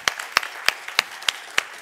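Applause for a guest at a talk, heard as a handful of sharp, evenly spaced claps, six distinct smacks at a slow, steady beat over a quiet room.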